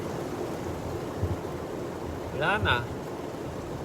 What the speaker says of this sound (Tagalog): Mas lumalakas pa yung ulan.